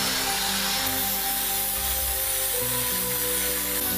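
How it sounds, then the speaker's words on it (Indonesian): Grit 100 sandpaper rubs along a machete blade, giving a continuous rough scraping that stays close and steady, with faint tonal hum from a machine underneath. "kita haluskan lagi permukaan bilah menggunakan amplas grit 100"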